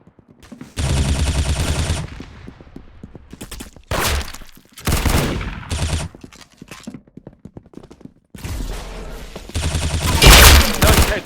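Loud bursts of gunfire from a video game shooter, rapid volleys in several separate bursts with short gaps between them, heard up close with no talking.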